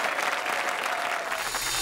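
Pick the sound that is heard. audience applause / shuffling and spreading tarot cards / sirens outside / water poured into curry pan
audience applause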